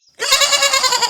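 A goat gives one loud, close bleat that starts abruptly after a brief silence and holds as a wavering, nasal cry to the end.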